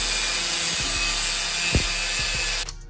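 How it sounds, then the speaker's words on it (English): Saw cutting a short spacer from PVC tubing, a close steady rasping stroke with faint ticks and one sharp knock partway through, stopping abruptly just before the end. "I'm just gonna cut a little spacer out of this tubing that I've got here"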